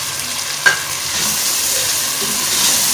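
Tomatoes, spices and green chilli fry in a pan with a splash of water for arvi palak sabzi, giving a steady close sizzle with one sharp scrape of a stirring spoon early on.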